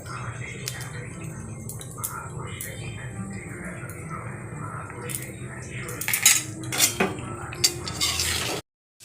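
Soybean curry being stirred and sautéed in a pan, a metal spoon scraping and clinking against the cookware under a low sizzle, with a few louder knocks near the end before a sudden cut.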